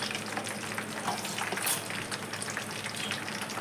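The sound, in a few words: hibiscus leaves sizzling in a pan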